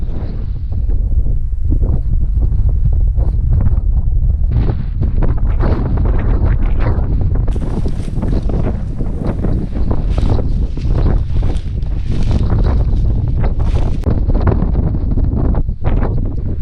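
Loud, roaring gale-force wind buffeting the microphone continuously on the Alaska Peninsula coast, with gusty surges and heavy low rumble throughout, no voices.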